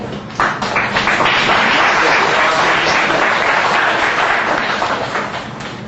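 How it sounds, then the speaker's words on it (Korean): A large church congregation at a Korean church in Manila claps loudly and continuously, the dense applause swelling quickly, holding steady, then slowly tapering off. "박수 여러분 크게 한번 해주시기 바랍니다."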